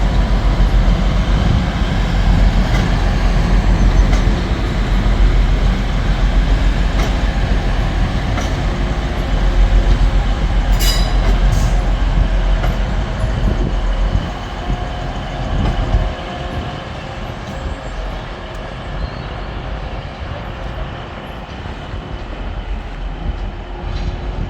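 Two trains pass at Manchester Piccadilly station, giving a continuous loud rumble and wheel noise up close with faint metallic squeals, slowly easing in volume toward the end, no talk.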